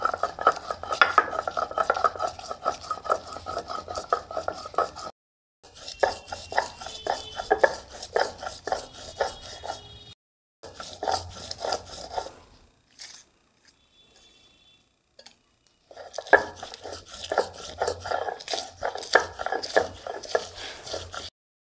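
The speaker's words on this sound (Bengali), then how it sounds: "এখন মশলাটাকে ভালো করে বেটে নেব।" Green chili, ginger and black cumin are ground by hand on a flat grinding stone. Close, rhythmic scraping and rubbing strokes run in several long stretches, broken by brief quiet pauses.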